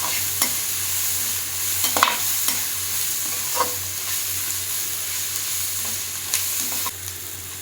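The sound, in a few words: capsicum being stir-fried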